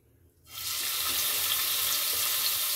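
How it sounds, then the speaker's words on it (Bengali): Prawns frying in hot oil: a sudden loud, steady crackling sizzle bursts in after half a second of near silence and stays dense and even, close up, with no talk. "চিংড়ি মাছগুলো ভেজে নিচ্ছি।"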